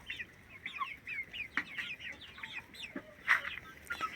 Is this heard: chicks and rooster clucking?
yes